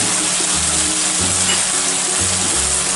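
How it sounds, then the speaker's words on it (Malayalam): Loud, steady sizzling fills a hot pan as soy, chilli, red chilli and tomato sauces go in for chilli gobi with cauliflower, frying continuously with faint stirring and no speech. "ഇനി നമുക്കിതിലേക്ക് സോസുകളെല്ലാം ഒഴിച്ചു കൊടുക്കാം."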